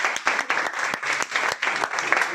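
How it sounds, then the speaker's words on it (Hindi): A brief burst of audience applause, many hands clapping together in a loud, rapid, pulsing rhythm close by. "इन सभी के लिए जोरदार तालियां बजा दी है"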